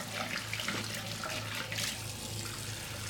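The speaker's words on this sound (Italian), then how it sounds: "Acqua calda c'è" Hot water runs steadily from a tap into a sink while getting ready for a wet shave, a constant close hiss and splash with no voices.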